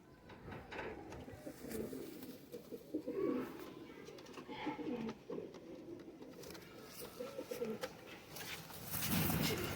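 Several Faqeer Gul style male pigeons cooing in soft, repeated throaty bursts, close by, continuing through the clip with a louder coo near the end.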